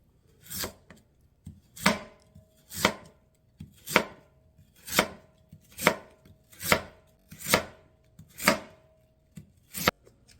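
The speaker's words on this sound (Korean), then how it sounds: "반으로 자른 뒤에 채를 썰어줄게요" A knife cuts through halved radish into thin julienne strips on a cutting board, about a dozen crisp, evenly spaced chops in a steady rhythm, close and clear with no talking.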